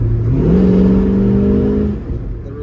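A 1972 Chevrolet Nova accelerates from a standstill, its engine note rising steadily in a close, loud in-cabin drone before easing off near the end.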